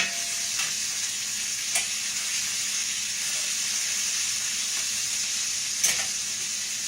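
A T-bone steak sizzles steadily in a hot pan, a continuous bright frying hiss with a few soft pops and crackles, heard close up with no talking.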